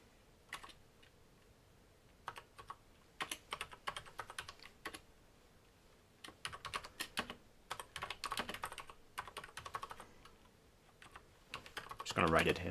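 Irregular bursts of keystrokes on a computer keyboard, close and moderately loud, coming in clusters with short pauses, with a faster flurry near the end.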